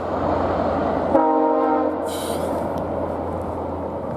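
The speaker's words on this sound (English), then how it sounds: "Train is coming." A train horn blares for under a second over the steady rumble of a passing train, which continues after the horn stops.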